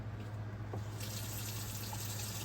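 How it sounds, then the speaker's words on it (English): Hot water gushes steadily from a tap as equipment used for percolating herbs is rinsed, a loud broadband rush that swells louder partway through, with a low hum beneath and no talk. "let me rinse this off with hot water"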